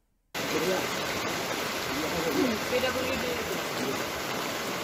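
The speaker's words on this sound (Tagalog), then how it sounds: "Lakas ng ulan, guys, no?" Heavy rain pours down outdoors near a river, starting abruptly as a dense, loud, steady hiss of water that continues without a break.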